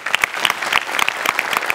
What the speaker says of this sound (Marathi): सो तुझ्याकरता एकदा स्पेशल टाळी.